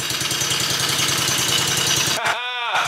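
Small engine of a DIY mini jeep running on choke, a loud rapid chugging putter that cuts out abruptly near the end, followed by a brief tonal whine.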